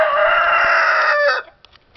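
A chicken rooster crows in Birmingham, Alabama, one loud, close, sustained call that breaks off near the end, followed by faint quieter sounds.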